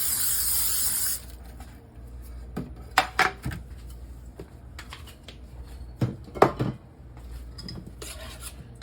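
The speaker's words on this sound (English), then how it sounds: "I'm gonna spray those and get those ready to put in our granola mixture." Baking pans for granola are coated with cooking spray, a brief hissing burst at the start followed by scattered clanks and taps of metal pans being handled nearby.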